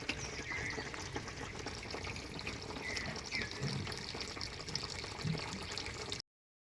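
Water runs from a tap in a faint, steady trickle and splash, continuous and fairly distant-sounding, before cutting off abruptly at the end.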